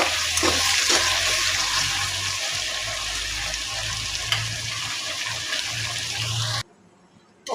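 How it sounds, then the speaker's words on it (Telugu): Simmering curry bubbles and sizzles in a pan as it is stirred, a steady close wet frying texture that cuts off abruptly near the end. "ఒకసారి బాగా కలుపుకోవాలి."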